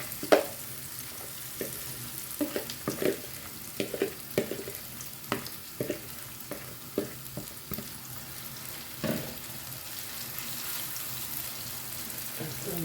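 A young-cabbage casserole mixture sizzles and crackles steadily in a hot pan, with scattered clinks and scrapes of a utensil and faint running water.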